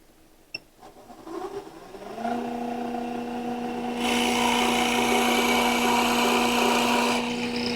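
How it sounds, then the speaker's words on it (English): A drill press spins up and bores into a pen blank, its motor whine rising to a steady hum and then a louder, rougher grinding as the bit cuts, close by. "And then we can turn the drill press on."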